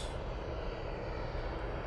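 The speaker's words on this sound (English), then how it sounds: "Two Dreamliner coming out." Distant steady jet roar from a Boeing 787 Dreamliner departing Manchester Airport, a broad continuous rumble with no talk over it.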